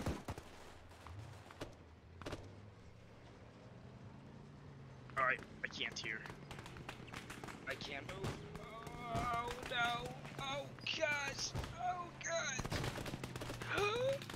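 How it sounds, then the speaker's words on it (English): Gunfire in a shooting video game, scattered bursts and single shots of varying distance mixed with game noise, with players talking over much of it. "Just start shooting. Shoot at the rock wall."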